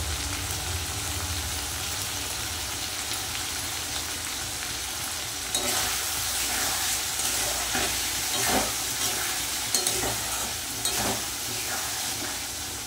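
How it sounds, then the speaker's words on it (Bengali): Masala spices with salt and turmeric sauté and sizzle in a pan, a steady loud frying hiss broken by scraping stirs, no talk. "মশলাটা ভালো করে কষিয়ে নেব। দিয়ে দেবো নুন, দিয়ে দেবো হলুদ।"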